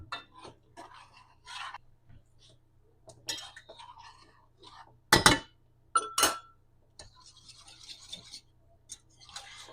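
A utensil stirs a butter and flour roux in a pot just after milk is poured in, making short brushing scrapes and a few sharp clinks against the pan, with quiet gaps between strokes.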